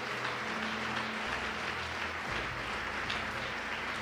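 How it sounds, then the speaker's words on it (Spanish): Congregation applauding during a church sermon, a steady wash of clapping at moderate level with a low musical tone underneath. "que den un aplauso al Señor bien fuerte"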